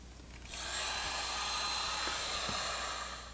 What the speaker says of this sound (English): We'll just heat them up with our trusty heat gun here and bend them outward.